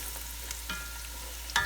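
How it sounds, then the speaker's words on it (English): Onions burning in a pan give a faint, short frying sizzle, with a few light clicks and a louder utensil clatter at the end. "And these onions are burning."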